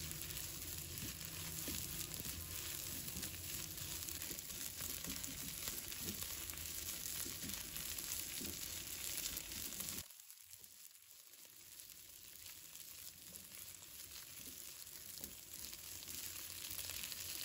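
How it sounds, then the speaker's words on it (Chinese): Rice stir-fried in a wok with soy sauce, salt and pepper, giving a steady close sizzle with scraping and tossing noises, a brief quieter dip near the middle, and no talk. "再加入半勺的食用盐，半勺的胡椒粉，继续翻炒米饭1分钟"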